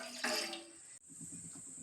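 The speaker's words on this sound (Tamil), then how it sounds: "இப்போ தண்ணி ஊற்றியாச்சு." Water poured into a pot for coriander and dry-ginger coffee in a home kitchen: a close, steady rushing splash that cuts off abruptly, then a softer trickling burble continues.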